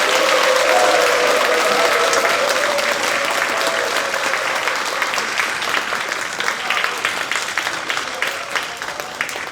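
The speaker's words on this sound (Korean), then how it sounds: "큰 박수로 모시겠습니다" A large audience at a teachers' education event applauds to welcome a history lecturer, a loud, dense burst of clapping that holds steady and then slowly thins out toward the end.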